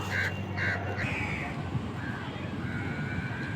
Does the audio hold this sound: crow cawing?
yes